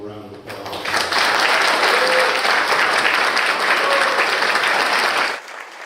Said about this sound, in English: I'd like everybody to give them a round of applause